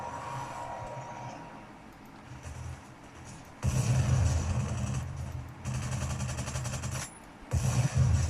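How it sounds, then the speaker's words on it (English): Gunfire in the Halo ODST video game comes in sustained rattling bursts, loud and dense, separated by brief quieter gaps with a lower rumble underneath, and no voices. "They're shooting us."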